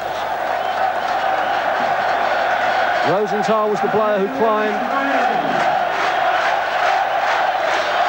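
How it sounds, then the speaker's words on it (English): A packed football crowd in Tel Aviv roars steadily throughout, a dense distant wall of cheering behind a commentator talking over it, with a chant-like swell midway. "This packed crowd here in Tel Aviv, getting right behind this Israeli side now."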